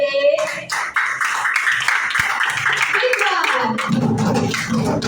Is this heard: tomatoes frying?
no